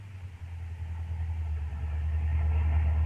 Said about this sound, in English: Have to pull the car a bit off the road, though, to park.